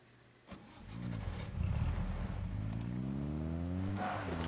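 A car in PUBG starts up and gets driven. There is a thump at the start, then the engine revs and climbs in pitch steadily, moderately loud, with no speech.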